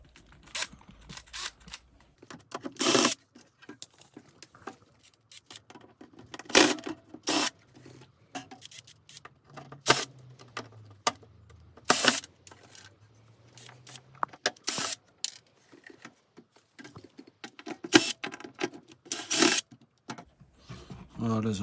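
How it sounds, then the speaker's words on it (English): A small flat screwdriver working on a metal network switch box, with intermittent scraping, clicking and rattling handling noises at close range and a voice talking between them. "Let's try a smaller flat screwdriver."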